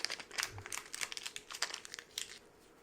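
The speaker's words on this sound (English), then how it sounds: "Sorry, fingers are a little big for trying to open these tiny little Ziplocs." Tiny plastic ziplock bags holding metal dice crinkle and rustle close up as fingers work them open, a quiet run of crisp crackles.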